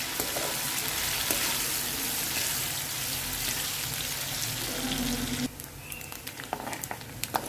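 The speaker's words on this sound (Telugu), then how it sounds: "రొయ్యలు ఫ్రై అయిపోయినాయండి తీసేస్తున్నాను" Dried shrimp frying in a pan, a dense, steady sizzle and crackle that continues for several seconds, then drops to fainter scattered pops and clinks.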